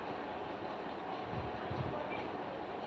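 A train pulls away from a station, giving a steady, fairly faint rumble of rolling wagons that continues for the whole stretch with no talk over it.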